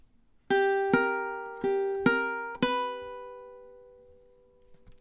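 Five plucked ukulele notes from measures 7 and 8 of a song, evenly spaced and close, the last ringing out and fading alone.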